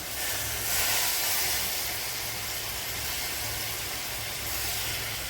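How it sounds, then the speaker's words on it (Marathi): Hot water poured into a pan of chicken frying in garlic-tempered oil gives a steady, loud steamy hiss with a rushing sizzle that swells early and holds for several seconds, with no talking. "आता मी इकडे गरम पाणी केलेलं आहे, 1 तांबे हे पाणी सोडते त्यामध्ये"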